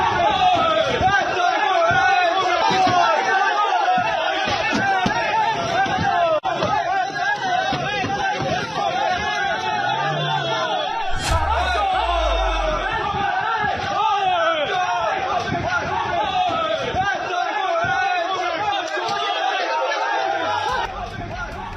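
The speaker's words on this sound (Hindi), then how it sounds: "जिस गाड़ी को भीड़ घेर रही है," An angry crowd mobs the car of a TMC MLA in Bengal, pelting it with eggs; a loud, continuous din of shouting and chanting voices fills the whole stretch, with scattered thumps and bangs within the uproar.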